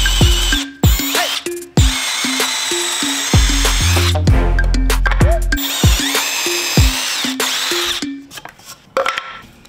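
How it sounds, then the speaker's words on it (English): A power drill whines loudly in several bursts, spinning up and winding down, with short pauses and clicks between runs as it bores through wood. "I'm going to go ahead and drill straight through these marks that I made."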